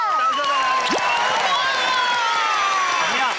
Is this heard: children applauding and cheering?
yes